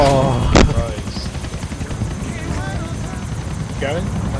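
Helicopter in GTA with a steady rapid rotor chop throughout, loud and close, with a sharp impact near the start and a person speaking over it.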